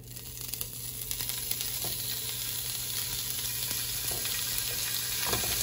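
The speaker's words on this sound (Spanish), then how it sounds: "Ya que la manteca se derritió y se calentó lo suficiente, voy a agregar en este punto el chorizo" Chorizo frying in melted lard in a pan, a close, steady sizzle with crackling pops throughout, no voices.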